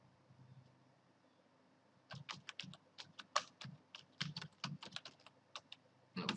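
A computer keyboard clatters as a website name is typed into a site builder, a quick close burst of crisp keystrokes after about two seconds of quiet, alone without any voice.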